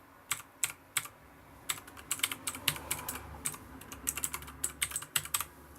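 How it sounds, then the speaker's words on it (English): Rapid clicky keystrokes on a mechanical keyboard with blue switches, close and crisp, in uneven bursts of typing with no voices. "it's a keyboard and it's mechanical. So listen to the sound."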